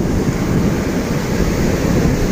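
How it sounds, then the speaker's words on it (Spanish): Ocean waves break steadily on the beach at El Morro, a loud continuous wash of surf with wind rumbling against the microphone. "cómo está de bonito el oleaje aquí en la playa del Morro"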